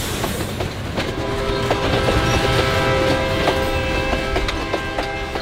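A freight train rumbles loudly and steadily, with metallic clanks and squeals from couplings and wheels as the cars jolt into motion.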